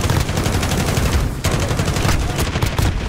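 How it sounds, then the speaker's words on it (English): Holger light machine gun firing in a first-person shooter video game, a dense, continuous stream of rapid automatic shots with a brief pause partway through, loud and close throughout. "I was really missing playing with the Holger light machine gun, my favourite."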